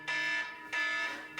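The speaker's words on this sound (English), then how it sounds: "that's my alarm" An alarm goes off indoors in a workspace, two sustained electronic beeping tones with a short gap, moderately loud and alone.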